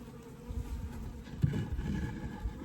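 Honey bees swarm around an open 24-frame Layens hive during a winterizing inspection, a dense, steady buzzing hum close to the microphone with no talking.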